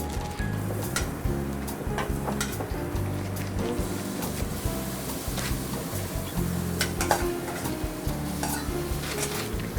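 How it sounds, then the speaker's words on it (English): Shrimp frying in olive oil in a kitchen pan, with a steady sizzle and repeated stirring and scraping clinks, close up and continuous. "I want to put these shrimp on"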